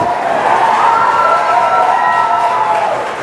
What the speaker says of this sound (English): some major cheering going on here as every stage of this test unfolds